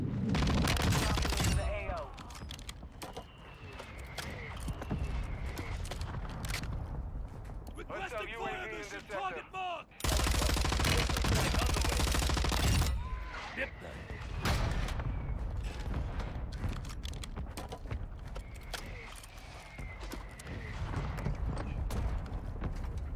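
Gunfire from a Call of Duty Warzone match on Ashika Island with an RAPP-H class setup: loud repeated bursts of shots and rapid automatic fire, broken by short pauses, under continuous in-game commotion.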